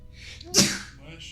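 A single sharp sneeze bursts out, close and loud, preceded by a quick breathy intake.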